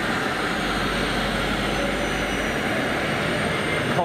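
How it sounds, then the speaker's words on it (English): Jet engines spooling down on an airliner at Munich airport, a steady broadband roar with a faint high whine, close and continuous with no voices. "Engines off. Yeah, I love that shutdown noise."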